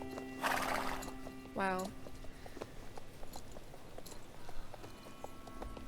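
A Marwari horse canters in the video game Star Stable Online, its hoofbeats soft and steady beneath ambient game sounds, with a loud whinny near the start and a brief spoken exclamation.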